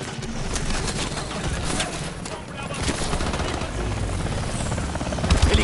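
Atlas helicopters in the Call of Duty Advanced Warfare game, heavy rotor thrum mixed with bursts of gunfire and battle noise, loud and continuous, with a voice shouting over parts of it.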